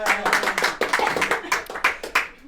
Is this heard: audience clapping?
yes